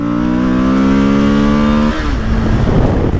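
Suzuki V-Strom 1050XT motorcycle with a 107-horsepower engine accelerating hard on the road, loud and close, with a smooth rising drone that drops sharply around a gear change and then turns rougher and choppier.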